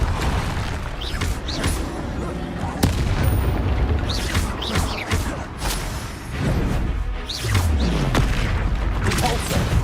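Confringo fire spells burst in repeated booming explosions during Hogwarts Legacy combat, thumping blasts and whooshes in quick succession, loud and close, with a voice casting spells over them.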